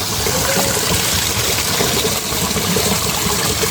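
A small river stream flows in front of a village house, giving a steady, close broadband rush of moving water that stays even and unbroken for the whole stretch, with no voices.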